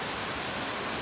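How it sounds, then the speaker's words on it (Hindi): A small waterfall in Kharal Valley pours in a steady, dense hiss of rushing water, close and continuous with no other sounds or voices. "एक छोटा सा वाटरफॉल है"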